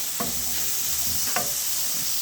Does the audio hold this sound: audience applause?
no